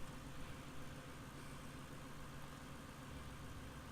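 A 2015 Lexus LS460 engine idles with a faint, steady, even hum and no change in pitch or level, with no voices over it.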